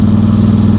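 A hot engine idles steadily and loud before a ride in cold weather ahead of a snowstorm, a constant low rumble with a faint pulsing beat and no voices.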